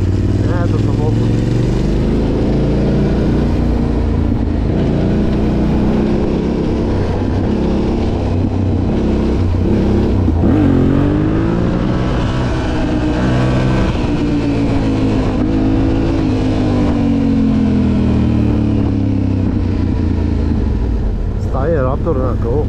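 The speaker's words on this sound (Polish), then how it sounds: "Nie, to samochód." A car engine revs while driving in a video game, a loud, continuous drone whose pitch rises and falls in sweeps across more than twenty seconds.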